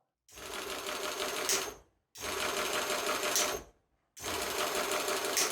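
A servo-motor sewing machine stitches in three steady, even bursts, each roughly a second and a half long, with short silent pauses where it stops between runs.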